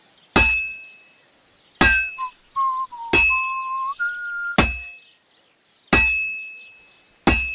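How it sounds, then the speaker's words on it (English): A hammer striking a heated sword on an anvil in the video game Kingdom Come: Deliverance 2, six sharp, ringing metallic clangs spaced about a second apart, with a whistling tone between some strikes. "Now take the hammer and try hitting it a few times."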